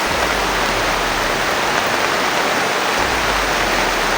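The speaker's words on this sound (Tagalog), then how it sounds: "sobrang lakas ng ulan" Heavy rain pours down in a loud, constant roar of dense splashing with no pauses and no talking.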